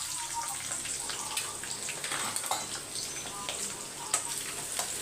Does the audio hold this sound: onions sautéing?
yes